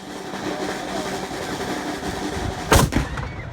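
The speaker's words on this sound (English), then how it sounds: "we returned back to the San Carlos Fortress for a cannon firing in the evening" A ceremonial cannon fires at the San Carlos Fortress in Havana after dark: one loud, sharp boom that echoes briefly over a steady murmur of a large crowd.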